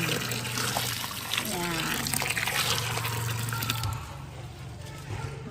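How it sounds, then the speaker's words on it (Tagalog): Hot salted water splashes and gushes as it is poured onto scraped nami tubers by a river, in a steady pour that eases partway through, with voices underneath. "lagyan natin siya ng mainit na tubig na may asin"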